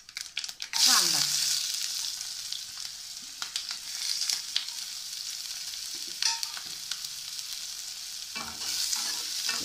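Chopped onion drops into hot oil already crackling with mustard seeds, cumin and turmeric for a cluster bean curry, giving a loud sizzle that settles into a steady close-up fry, with occasional stirring scrapes and a brief voice.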